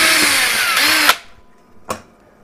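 Electric drill with a 1/8 inch bit drilling Habitrail plastic tubing for pinball guide rails, heard close as a loud sustained whir that cuts off abruptly, followed by a short second burst of the motor.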